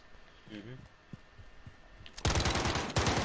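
Rapid automatic gunfire from Call of Duty: Modern Warfare erupts loudly after quieter game sounds and a brief voice, with dense, fast-repeating shots.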